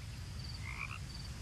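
Toads croak in the video game What Remains of Edith Finch: a short burst of croaks sits over a steady low ambient hum and a faint high tone.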